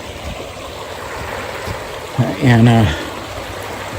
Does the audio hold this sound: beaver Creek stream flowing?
yes